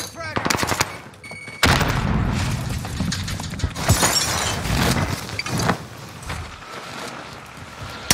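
A frag grenade blast in Call of Duty Warzone during PPSH class play: a sharp burst of gunfire, then a loud explosion and rumbling debris that fades over several seconds, close and heavy.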